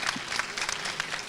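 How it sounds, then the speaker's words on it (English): A short burst of scattered clapping from the crowd at a ribbon-cutting ceremony, brief and moderately loud with uneven claps over about a second. "Please give her a big round of applause."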